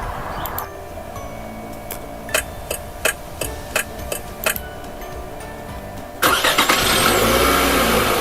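A car engine starting sound effect: a string of crisp, evenly spaced clicking ticks, then the engine catches and runs with a dense, steady mechanical rumble to the end.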